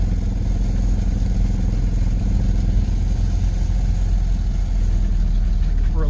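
A BMW Isetta Z bubble car's small engine runs at a steady, close, clattering idle throughout, with a constant low rumble and no pauses.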